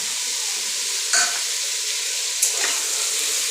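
Mushrooms and green peas fry in a pan, a steady close sizzle with a couple of brief scraping stirs partway through.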